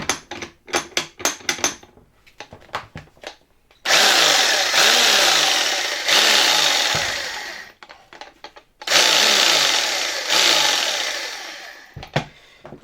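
A 1981 Celma PRWg hammer drill with a suspected faulty hammer action roars loudly in two long bursts with rising and falling motor pitch, separated by clicks and handling knocks up close.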